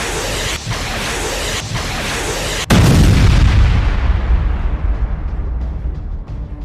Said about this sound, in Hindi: हाइफा के दक्षिण में इजरायली सेना के तीरथ कारमेल बेस पर नस्र 2 रॉकेट दागे गए